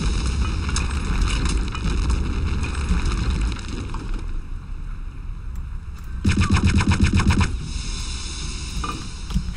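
Machine gun fire in the Return to Castle Wolfenstein video game, a loud sustained burst of rapid shots with a brief lull before a second dense burst, over constant game noise.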